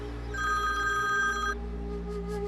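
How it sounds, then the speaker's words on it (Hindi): A telephone rings with a steady electronic trill for about a second, then stops, leaving a low hum in the background. "मेहरू मेहरू ने इस वक्त क्यों फोन किया?"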